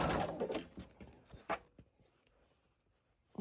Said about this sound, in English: going to stitch a 1/4 inch seam down that line